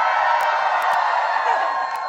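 A large rally crowd in Atlanta cheers and whoops in a steady, dense roar that holds at full strength throughout, with scattered shouts standing out from the mass.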